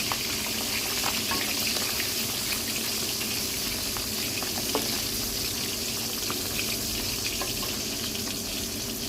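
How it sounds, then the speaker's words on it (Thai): Mackerel fries in a pan with a dense, steady sizzle and crackle that stays loud and close throughout, broken by occasional small pops. No one speaks. "ก่อนต่ำเขาก็ต้องทอดปลาทูก่อนค่ะพี่น้อง"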